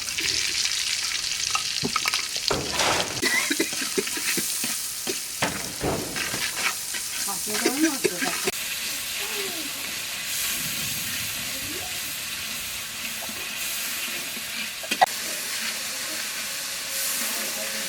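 Spices sizzle and fry in hot oil, a dense steady crackle with scattered pops and stirring scrapes throughout, close and loud, for a Bengali dish of taro stolons and egg.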